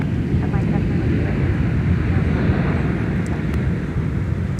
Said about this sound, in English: 717 throwing in those bucket thrust reversers after touchdown on 12 right